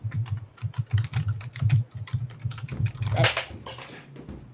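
Rapid, loud clicking of a computer keyboard being typed on nearby, a dense run of keystrokes with short pauses, slowing toward the end while a voice briefly speaks.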